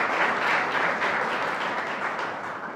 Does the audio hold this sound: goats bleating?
no